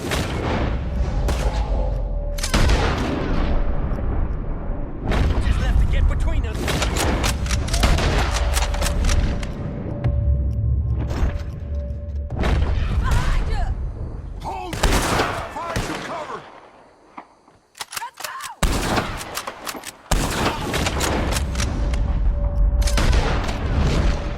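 Gunfire in Red Dead Redemption 2 during a shootout with O'Driscoll gang members: repeated loud shots and booming blasts in clustered volleys, with a brief quieter lull partway through and voices occasionally heard among the shooting.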